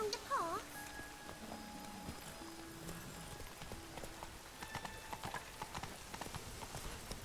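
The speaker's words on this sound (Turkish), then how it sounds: "Lan dışarıda yağmur yağıyor" Rain falling outdoors, a steady patter with scattered drips, mixed with clip-clop hoofbeats and a brief whinny-like call, faint talking nearby.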